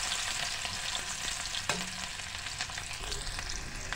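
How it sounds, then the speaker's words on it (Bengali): Chickpeas frying in hot soybean oil in a pan over a lowered flame, a continuous close crackling sizzle with light stirring, no talking. "খুবই মজাদার ছোলা বুট ভাজা"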